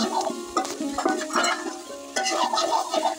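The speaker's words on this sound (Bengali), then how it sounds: "তরকারিটা এখন ভালো মতো কষিয়ে নেব।" A curry being stir-fried with garam masala, cardamom and cloves, sizzling in the pan while a spoon scrapes and stirs in bursts, close and fairly loud, with brief pauses between strokes.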